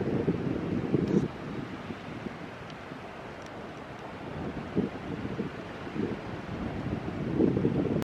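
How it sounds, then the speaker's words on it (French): Strong wind buffeting the microphone by the water, with low rumbling gusts rising and falling throughout and no talk. "c'est souvent très venteux au bord de l'eau. Comme maintenant d'ailleurs"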